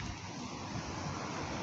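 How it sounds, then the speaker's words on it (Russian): Small river in Sochi with hydrogen sulfide springs, water rushing in a steady broadband wash with no pauses, close and fairly soft, heard alone without voices. "Вот такая вот речка."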